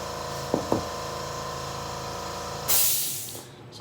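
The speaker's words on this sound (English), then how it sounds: "That's the compressor kicking on." An air compressor used for paint spraying, with a steady mechanical drone and a couple of sharp knocks early on. A loud burst of hissing air follows and then trails away.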